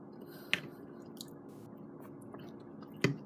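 Soft wet chewing of mushy meatloaf and mashed potatoes with gravy from a frozen dinner, close and quiet, with two sharper squishy bites standing out.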